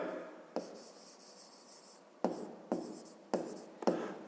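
Pen or pencil writing out a fifth-grade math solution on paper, a soft scratching in several short strokes with brief pauses between them, close and quiet with no voice.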